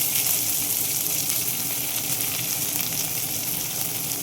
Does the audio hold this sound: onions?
yes